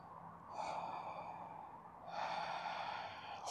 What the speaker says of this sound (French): On n'oublie pas de respirer.